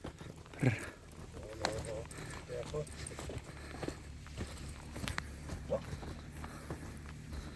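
Hooves clip-clop slowly and irregularly as a Percheron horse walks nearby, led toward a mare, with people talking quietly in the background.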